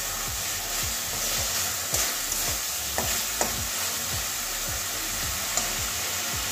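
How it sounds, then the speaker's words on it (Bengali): Onion and tomato sautéing in a pan for a Bengali duck egg curry with cauliflower and green peas, a steady sizzle with repeated soft scraping strokes of a spatula stirring at an even rhythm, close and continuous. "এই দুটো ভালো করে কষিয়ে নেব।"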